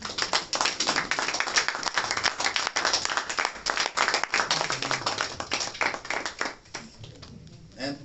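A church congregation claps together in acclaim, a dense, steady burst of many hands applauding that continues loudly throughout, with faint voices beneath.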